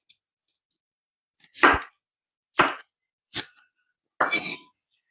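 A knife roughly chops celery, carrot and onion on a board, four sharp cuts landing at uneven intervals, close and fairly loud, with brief faint clicks before them and no talk.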